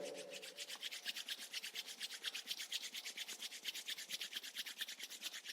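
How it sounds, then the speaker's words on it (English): Palms rubbing briskly together during a yoga class, a rapid, even swishing friction repeated in a steady back-and-forth rhythm, close up and quiet, with no voices. "Now rub your palms together."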